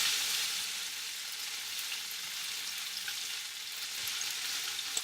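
General Tao chicken sizzles in hot sauce in a pan, a steady bright hiss and crackle with occasional stirring scrapes, close and continuous with no talking.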